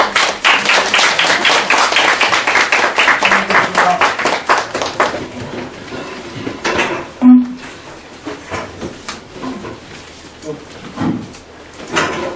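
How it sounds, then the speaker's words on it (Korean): An audience of parents at a school information session gives a burst of close, dense applause for an arriving lecturer; it fades after about six seconds into scattered claps, shuffling and knocks. "강사님이 나오실 때 열렬한 환영의 박수를 부탁드립니다."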